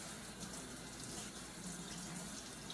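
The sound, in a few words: tap water running while rinsing knives in hot water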